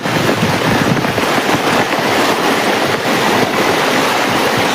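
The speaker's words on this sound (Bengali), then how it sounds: "ফেনি নাইয়া যে প্রধান সড়ক সেখানে পানির কি স্রোতের তীব্রতা" A loud, steady rush of fast-moving floodwater flowing over a main road in Feni, Bangladesh fills the whole stretch, a constant broad roar with gusty wind noise on top, no voices.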